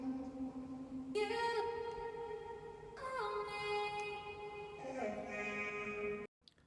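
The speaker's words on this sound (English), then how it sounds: "I then chopped up singular words or phrases from the vocal to create ad-libs." Chopped vocal ad-libs from a glitchhouse track, pitched up and down into short melodic phrases, sound as stepped, sustained sung tones in a few bursts before an abrupt cut.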